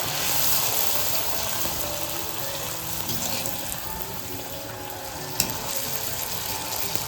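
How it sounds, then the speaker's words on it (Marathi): Food fries in hot oil for chhole puri: a steady, dense sizzle and crackle continues throughout, with a faint clink near the end. "तर तळायला सुरुवात केली आहे बघा. तेल मस्त तापलंय."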